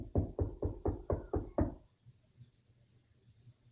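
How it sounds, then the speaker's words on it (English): Seven firm knocks on a door in a steady, evenly spaced run, close and fairly loud, then stopping into near silence. "She knocks a little harder."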